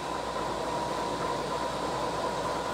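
A Skoda SRM-125 heavy-duty lathe with a 3400 mm job length runs its spindle at 200 RPM in good working order, producing a smooth, unbroken mechanical hum with no knocking.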